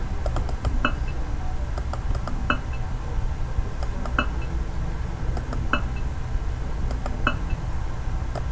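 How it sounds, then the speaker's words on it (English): Sharp, quick computer mouse clicks snap out in small irregular clusters, close and distinct, over a low steady background hum with no talking. "I just clicked the mouse so bad"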